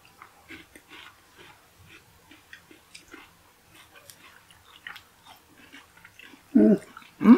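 Someone crunches a chocolate candy bar in soft, irregular bites, close and fairly quiet, with breathing between chews and louder noises at the end.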